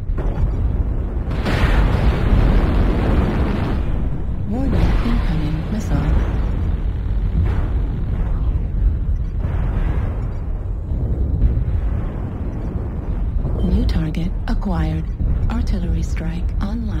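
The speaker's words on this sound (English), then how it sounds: "Warning, incoming missile." Incoming missiles in MechWarrior Online, played as an Urbanmech, explode in repeated heavy booms and rumbling blasts, loud and close, with a synthetic cockpit voice speaking warnings over them.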